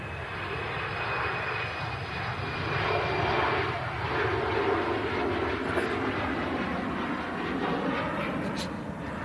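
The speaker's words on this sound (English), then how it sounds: "Tap Air Portugal heading off to Lisbon for an Embraer E190." A TAP Air Portugal Embraer E190 jet departs Manchester Airport for Lisbon, its engines giving a loud sustained roar that swells slightly and holds steady across the whole stretch with no talk.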